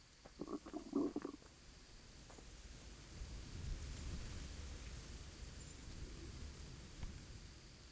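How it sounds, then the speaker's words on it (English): A low, drawn-out stomach growl in Kingdom Come: Deliverance rumbles quietly for several seconds, with a few faint clicks near the start. "That way I don't have to listen to his stomach growling."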